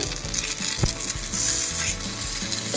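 Beetroot gunta ponganalu sizzle steadily in a pan as they are flipped one by one, with a brief clatter of a utensil partway through and continuous close frying crackle throughout.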